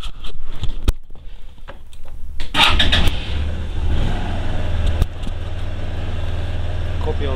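A car engine cranks and catches, then settles into a steady running rumble with a faint exhaust note, while someone talks nearby.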